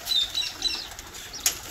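Pigeons being fed grain flap their wings in brief, close fluttering bursts, ending with one sharper flap.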